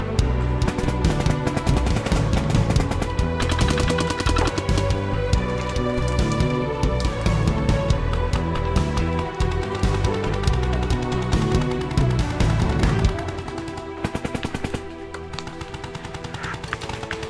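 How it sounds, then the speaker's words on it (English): Gunfire in the Halo video game: dense, continuous rapid shooting with layered bursts and impacts, loud and sustained, thinning out toward the end, with no talk. "Somebody's shooting this tree."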